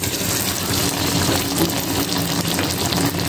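Pua pitha (tel chitoi pitha) frying in hot oil gives a steady, loud, dense sizzle with bubbling and crackling that runs continuously without pause.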